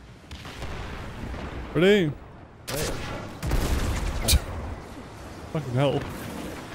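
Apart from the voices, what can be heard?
rocket launcher fire in Destiny 2 video game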